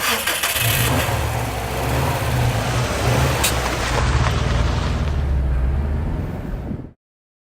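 A car engine starts with a burst and then revs loudly and continuously for about seven seconds before cutting off abruptly, with no talking.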